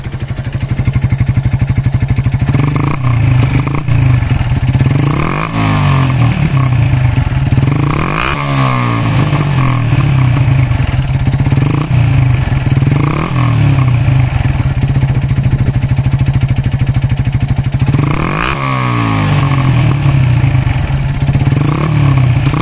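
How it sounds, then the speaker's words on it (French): A Yamaha YZF R125 motorcycle with its exhaust baffle fitted idles close by and is revved repeatedly, each throttle blip rising and falling over a steady, loud, buzzing single-cylinder drone. "je vais vous faire écouter le bruit de la moto. Donc là je vais vous le faire écouter avec la chicane"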